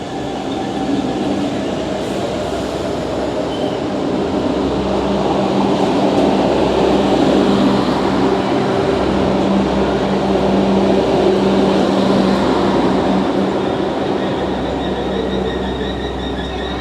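A steady, loud rumble of a passenger train from Mérida rolling along the rails, with a continuous low drone and faint rattling throughout, and no one speaking.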